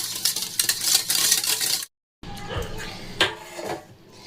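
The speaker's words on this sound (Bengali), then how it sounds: "এইটা হুইস্কার দিয়ে ফাটিয়ে নেবো এভাবে।" Wire whisk beating soaked lentil batter for dahi vada in a bowl, giving quick scraping, clinking strokes in two bursts split by a short silence, fairly close and moderately loud.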